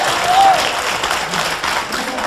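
An audience bursts into applause, a dense wash of clapping from a crowd with some murmur underneath, strong at first and tapering slightly over a couple of seconds.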